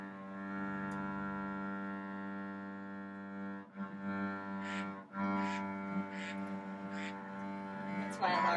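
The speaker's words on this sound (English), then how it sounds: "That's my alarm." An alarm goes off during a string lesson, a faint, steady buzzing drone with rich harmonics that holds unbroken throughout, joined by a few light clicks and soft incidental noises in the room.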